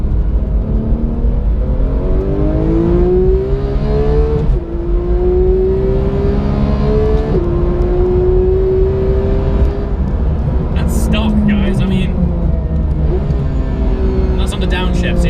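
A Porsche 991 GT3 with an aftermarket Sharkwerks sport exhaust revs up hard through the gears from second at 4,000 rpm, its exhaust note rising in pitch and dropping at each shift, loud and continuous with a voice talking over it.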